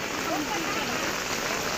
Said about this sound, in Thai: ฝนตกเปียกมาแล้ว